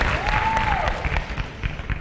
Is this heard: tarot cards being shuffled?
no